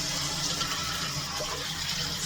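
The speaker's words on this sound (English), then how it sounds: "So I'm going to empty this water" Water left from washing fresh green beans is poured out of a bowl, a steady close rush and splash of liquid lasting the whole moment.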